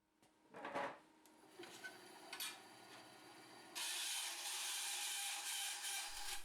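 Bandsaw cutting channels into small metal inserts for motorcycle chain adjustment blocks on a Honda NC750X: a few brief scrapes and knocks give way to a steady, loud sawing hiss that runs to the end.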